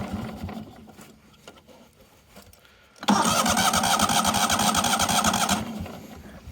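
A neglected 1998 Yazoo YTKC22 three-wheel mower engine, choked, cranks over and fires back up about halfway through, then runs loud and rough before easing slightly near the end, with faint background noise beforehand.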